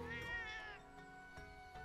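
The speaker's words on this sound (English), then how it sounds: "Meow! Hello there, Eleanor." A cat meows once, a short bright rising and falling call from the video game Monster Hunter Rise, quiet and alone against faint game ambience.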